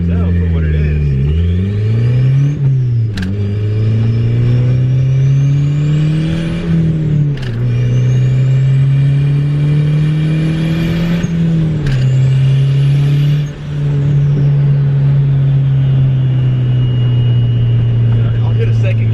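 A turbocharged Honda Integra with a B20V engine, making 270 wheel horsepower, accelerates hard along a street, its engine note climbing steadily and dropping at each gearshift, loud and close throughout.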